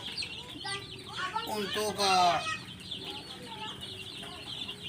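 Chickens cluck and squawk in a raised-floor coop on a poultry farm, a busy overlapping flock nearby with a louder burst of calls midway, while someone talks over them.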